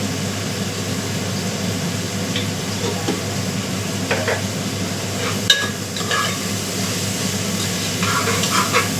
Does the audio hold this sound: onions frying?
yes